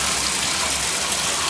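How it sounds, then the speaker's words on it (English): Water gushes steadily from newly repaired household plumbing, a loud continuous rushing splash that holds without a break. "got some water coming out right here."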